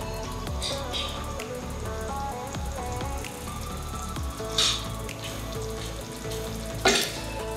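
Pumpkin curry sizzles and bubbles steadily in a pan on the heat, with a few sharp clinks and scrapes of stirring.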